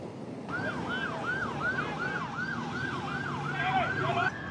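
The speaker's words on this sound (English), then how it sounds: "The sound of sirens." A wailing emergency vehicle siren sweeps up and down steadily over a low rumble of traffic, loud and fairly close.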